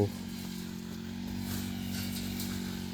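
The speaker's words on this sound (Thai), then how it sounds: "เสียงเจ้าของสวน กำลังตัดหญ้า" A grass trimmer's small engine drones steadily at a moderate distance in a mango orchard, a buzzing motor whine, fairly faint and continuous.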